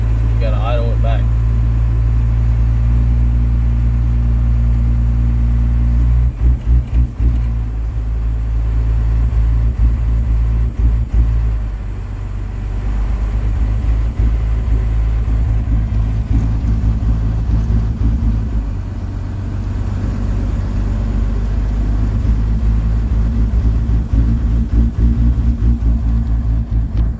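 A first-generation truck engine with a fuel problem, running with a deep steady low rumble that dips and surges unevenly, loud and close, while someone talks at times over it.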